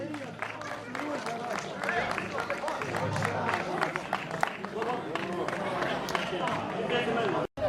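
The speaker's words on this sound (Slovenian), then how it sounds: "En aplavz, prosim." Dense applause from an audience at a table football tournament prize-giving in Zadlog, a steady wash of many hands clapping for several seconds, with voices mixed into it.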